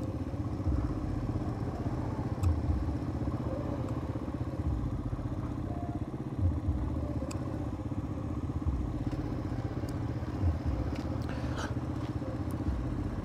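A Yamaha XT225 motorcycle rides steadily with a continuous low engine drone and road rumble, occasional clatter and thumps from the bike over uneven ground, heard from the rider's position.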